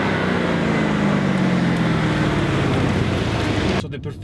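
A loud, steady engine roar fills the cabin of a Mercedes-AMG GLC 63 S Coupe, a deep V8 drone under the rush of motion, cutting off abruptly at the end.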